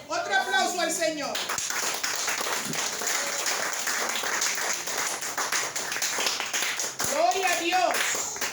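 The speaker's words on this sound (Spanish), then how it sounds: "Otro aplauso al Señor." Sustained, fairly loud applause to the Lord from a church congregation, steady clapping lasting several seconds, with a preacher speaking just before and after it.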